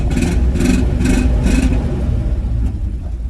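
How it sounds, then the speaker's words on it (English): A Land Rover Discovery II engine runs with a severe misfire in limp mode, its rough idle giving a loud, close, lumpy rumble broken by four evenly spaced pulsing surges. "And the misfire is catastrophic, and the service engine light's blinking, which is causing it to be in limp mode."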